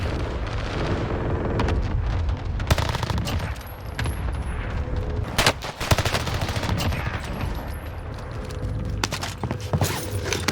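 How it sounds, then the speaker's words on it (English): Gunfire in the battle royale game Call of Duty Warzone, with repeated sharp shots and bursts over a dense, loud background of game action, spaced irregularly across the stretch with brief lulls. "So somebody shot me, sounded like a pistol."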